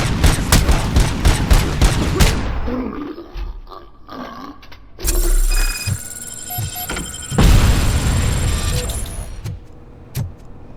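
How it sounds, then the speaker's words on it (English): Grenades and gunfire burst through a Robocop Rogue City video game firefight: dense rapid shots early, then two loud sustained blasts with rumbling decay and scattered impacts, heavy and close. "you're throwing grenades now, are you?"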